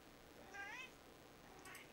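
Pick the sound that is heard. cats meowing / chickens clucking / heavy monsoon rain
cats meowing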